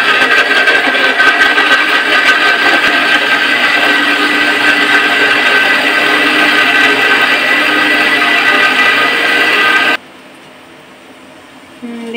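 A kitchen mixer grinder grinds spices, tomato, cumin and almonds with a little water, a loud steady whirring roar that runs for about ten seconds and then cuts off abruptly.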